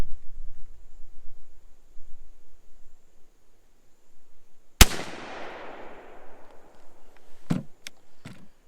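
A Mossberg SA410 shotgun loaded with an 8-shot shell fires once at a target outdoors, a single sharp, loud blast with a decaying echo, followed by a few short clicks from the action.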